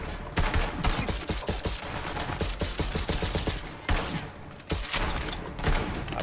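Rapid video-game gunfire blasts in dense bursts, loud and close, with brief pauses between volleys and no talking over it.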